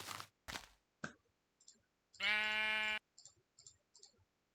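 A Minecraft sheep gives one clear, drawn-out bleat in the middle. Soft clicks and game taps come before and after it, and no one speaks.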